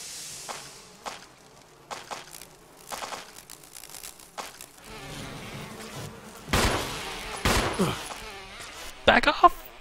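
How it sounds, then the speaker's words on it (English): Bees buzz in the video game Resident Evil HD, a scattered droning that builds toward the end amid footsteps and other game noises, with a player speaking now and then. "Bees everywhere!"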